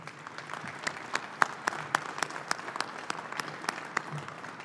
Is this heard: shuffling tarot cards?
no